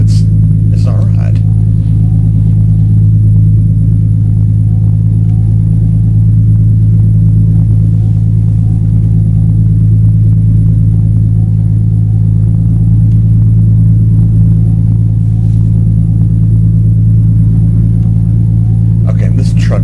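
A truck engine held at full throttle in Euro Truck Simulator 2 gives off a loud, unchanging low drone that holds steady throughout without ever climbing in pitch.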